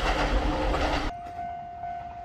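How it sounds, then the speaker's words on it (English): A Toyama Regional Railway train rumbles loudly past through a residential area, heavy wheel noise that cuts off abruptly, leaving a lingering thin tone and quieter ambience. "The train came through the gap between the residential areas."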